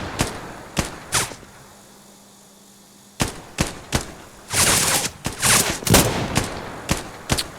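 Gunfire with tracer rounds in the Dagger Directive video game: sharp, close single shots at a steady pace, then a pause, then faster clustered bursts with a cracking, whip-like snap.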